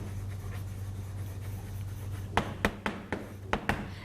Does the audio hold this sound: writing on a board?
yes